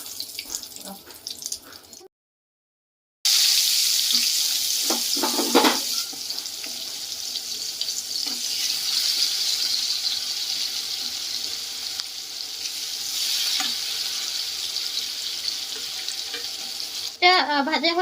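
Chopped onion with whole garam masala fries in hot oil, a loud continuous bright sizzle that starts abruptly after a brief silence, with occasional stirring clatter and a sudden burst near the end.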